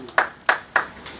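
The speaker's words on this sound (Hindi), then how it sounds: "भरपूर तालियों में" Three or four sharp, separate claps at a poetry mushaira in Ealing as a poet is called up to recite, each burst brief and close, with a quieter one trailing at the end.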